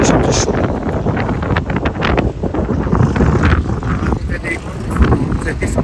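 Strong sea wind at Laboni Point on Cox's Bazar beach buffets the microphone in loud, uneven gusts, with a person talking underneath throughout.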